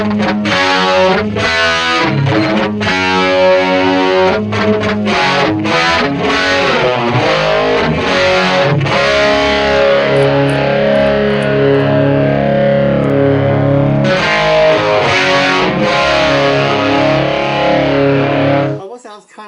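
Distorted electric guitar through a BOSS eBand JS-10 set for a 70s tone, a flanger used like a chorus giving a sweeping, swirling shimmer; loud, continuous riffing with sustained chords, played alone.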